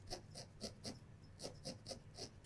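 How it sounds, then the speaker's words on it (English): A coarse felting needle jabs repeatedly into folded wool fibers, making soft, rhythmic rasping pokes at a steady pace, quiet and close. "Use your coarse needle"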